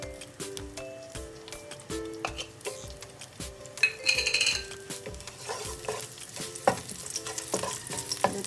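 Garlic sautéing in a little cooking oil with a steady close sizzle, broken by repeated stirring scrapes and clinks of a utensil against the pan.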